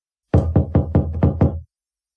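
Six quick knocks land on a door in an even, fairly rapid rhythm, sharp and close, and then the room goes silent.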